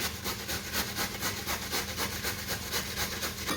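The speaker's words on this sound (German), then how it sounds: "Die Möhrchen reiben wir zusammen." Carrots rubbed against a grater in steady, rapid back-and-forth rasping strokes, close and continuous throughout.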